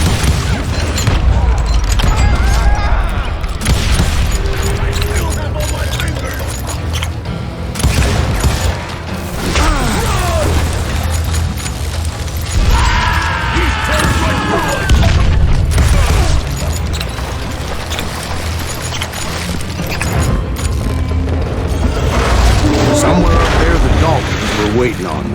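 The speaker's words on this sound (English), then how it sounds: "a fusillade of bullets come raining down from on high" Gunfire volley in the western shooter game Call of Juarez Gunslinger, dense bursts of shots and booming impacts cracking repeatedly at high volume over a rumbling low bed, with stretches of speech running through it.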